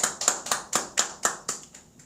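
A congregation at a Lent Sunday church service claps in a slow, even rhythm, about nine crisp, unison claps in quick succession that fade slightly toward the end.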